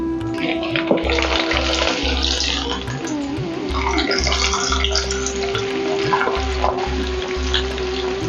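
Spinach pakoda batter dropped into hot oil, giving a steady bubbling sizzle with splashy crackles throughout, near and fairly loud, with a low hum underneath and a voice talking over it.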